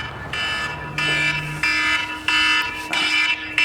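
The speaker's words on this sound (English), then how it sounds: "freaking alarms" An electronic car alarm blares in repeated pulses, shrill and insistent, cycling on and off about once a second with no talking.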